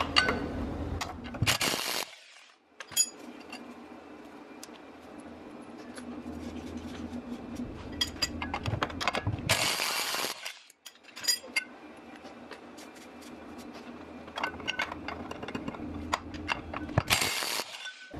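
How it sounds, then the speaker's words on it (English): Wrench ratcheting on the 18mm drive shaft flex joint bolts of a BMW E46 under the car, rapid metallic clicking runs broken by short pauses and sharp clanks, close up. "we're going to remove the 3 bolts holding this drive shaft to the flex joint"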